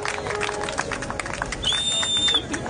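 Audience at a church gathering claps and cheers, a dense burst of applause with a brief shrill whistle-like cry partway through, close and lively over a murmur of voices.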